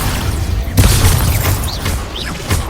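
In Hogwarts Legacy, an Expulso spell blast hits with a loud booming burst in the middle of ongoing magical combat, among dense crackling effects and brief whistling tones.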